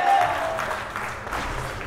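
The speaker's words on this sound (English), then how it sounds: "both teams cheering on their fellow teammates here" Crowd applause and cheering at the start of a Dota 2 esports match between two teams, a steady wash of clapping and cheers filling the whole moment with no clear voices above it.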